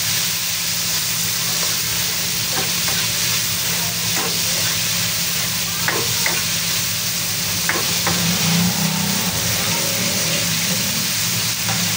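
Tomatoes frying with chicken in a pan, stirred as they cook down, give a steady close sizzle and hiss with a few light scrapes and clinks from the stirring.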